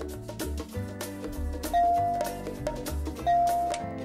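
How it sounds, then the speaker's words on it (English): Doorbell ding-dong chimes from an online slot game, two bright chime tones over busy, rhythmic casino game music, fairly loud and with no talking. "Ding dong."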